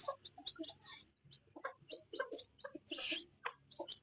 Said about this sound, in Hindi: मुर्गा और मुर्गी।